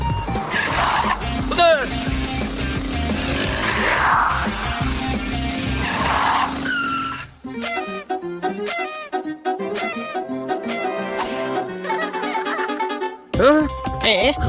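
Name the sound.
cars chasing in a cartoon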